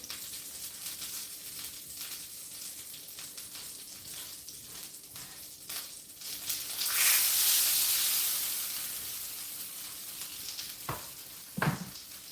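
Beef bacon sizzles in a pan, with a faint steady frying crackle that swells into a louder hiss midway, followed by a couple of sharp utensil clicks close by.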